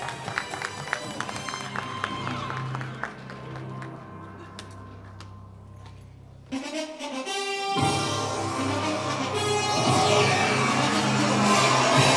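An awards-gala audience at the Global Star Awards applauds as the year's top businessman walks on stage, clapping over music that briefly drops out before a fuller, louder wave of applause swells.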